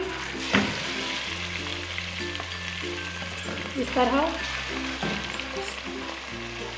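Steady sizzling of mustard greens frying in a pan, with occasional stirring clinks and a brief spoken phrase in Hindi partway through.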